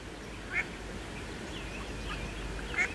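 Newly hatched ducklings paddle on water with two short, high peeps or quacks, one early and one near the end, over a soft outdoor background.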